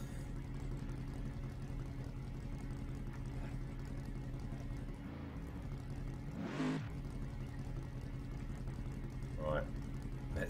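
2004 Cadillac CTS-V engine in the Assetto Corsa racing game at Circuit of the Americas, a low steady hum with a brief rising rev burst midway and a faint blip near the end.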